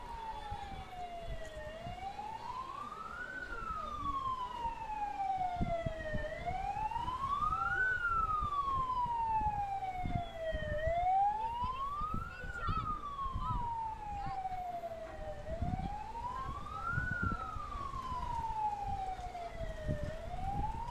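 A fire truck siren wails in slow rising and falling sweeps, moderately distant, over street noise with scattered voices, at a fire in Pateros, Philippines.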